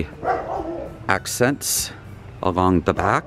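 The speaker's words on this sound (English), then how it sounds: "Sorry about the dog barking." A dog barks in several sharp bursts, fairly close, interleaved with someone talking about outdoor landscaping work at a home being prepared for a move into an RV.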